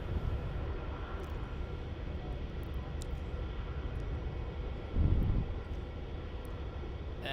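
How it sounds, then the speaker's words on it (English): A Jetstar passenger jet arriving from Hobart lands on runway 16 at Melbourne Airport, a steady distant engine roar with a brief louder swell partway through. "We have an arrival here on runway 16"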